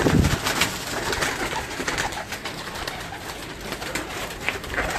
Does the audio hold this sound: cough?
no